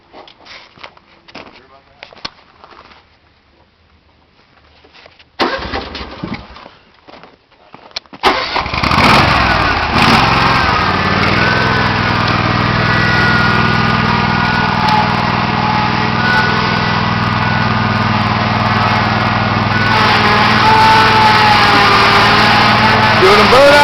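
A lawn mower engine is started and run while being used to try to remove the rest of its exhaust, with a few sputtering starting attempts before it catches and settles into a loud, steady, close running roar.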